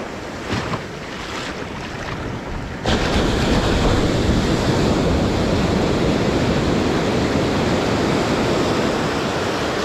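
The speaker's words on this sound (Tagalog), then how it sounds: "Malalaki yung alon." Big ocean waves roll and wash continuously at sea during a fishing trip, a loud broadband roar that steps up sharply partway through and then holds steady, with wind buffeting the microphone.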